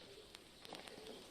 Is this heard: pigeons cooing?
yes